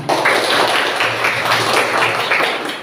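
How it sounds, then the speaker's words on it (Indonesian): Steady applause from a crowd of people clapping together, a dense even patter lasting a few seconds without pause. "Terima kasih, tepuk tangan."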